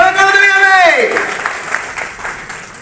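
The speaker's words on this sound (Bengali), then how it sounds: "সবাই জোরে করতালি হবে" A drawn-out announcer's voice on stage gives way to a crowd clapping at a Human Rights Day cultural event, a moderately loud, uneven patter of many hands that gradually thins out.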